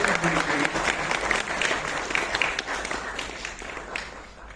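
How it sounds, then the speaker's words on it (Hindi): An audience at a festival event at IIT Kanpur breaks into loud, dense applause that gradually tapers off, close and without speech over it. "एक बार जोरदार तालियां आप सभी लोगों के लिए"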